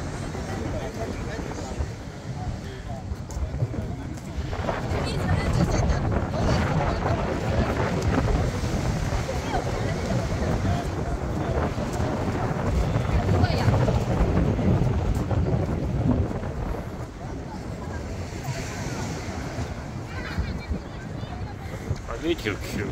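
Sea waves wash onto Dameisha beach in Shenzhen, heard from a bridge overlooking the shore as a continuous low rumbling surge with wind buffeting the microphone throughout.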